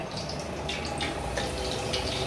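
Cooking oil is poured into a pan, a steady liquid stream that is fairly loud and continuous and has a faint sizzling hiss.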